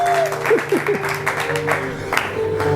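An audience claps at a live gathering in one sustained burst of applause, with sustained tones running underneath.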